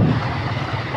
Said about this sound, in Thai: จุดนี้น้ำไหลเชี่ยว